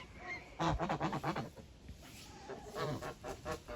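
White Legart geese call out close by in two rough bursts of repeated honks, separated by a short lull, with no talk.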